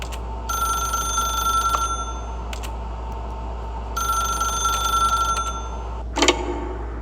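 A telephone rings in The Stanley Parable, two long bursts of steady electronic trilling separated by a pause, clear and fairly close over a low background hum, with a brief sharp click near the end.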